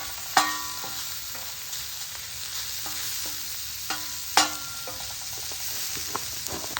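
Rice tipped onto a hot discada with wilting peppers fries in a loud steady sizzle, broken by sharp metallic scrapes and clanks of a spatula stirring every second or so, with no talking.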